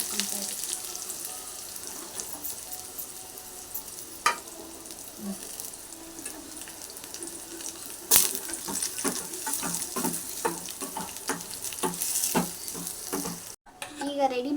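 Onions fry in a pan with mustard seeds and cumin for a vegetable sambar tempering, a steady quiet sizzle with occasional spoon stirs and scrapes growing busier toward the end.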